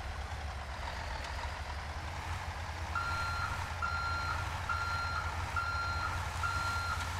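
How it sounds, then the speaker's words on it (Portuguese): Evenly spaced reversing beeps repeat over a low idling Scania R440 truck engine in GTA V, steady and moderately loud, with no talking. "Vamos acertar aqui o caminhão para a gente fazer a ré."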